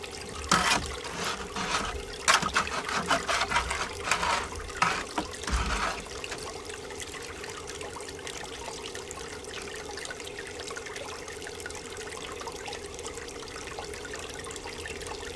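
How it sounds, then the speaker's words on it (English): Water flushing fine pay dirt down through a funnel into a GOLDROP gold recovery unit, a steady rushing trickle and gurgle throughout, louder splashy bursts early on, then a constant even flow, close up with no talk. "That way the water flow will break down the dirt much easier to run it down through the funnel"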